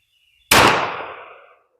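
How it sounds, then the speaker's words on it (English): A single sharp pistol shot fired one-handed during a World War II era marksmanship qualification, one loud close report with a ringing tail that fades over about a second, with no one talking. "I have all the time in the world to fire 5 shots and then 5 shots"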